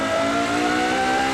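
A KTM X-Bow GT4 race car in Forza Horizon 4 holds a loud, steady engine drone with a slowly rising pitch, close and continuous, with no talking over it.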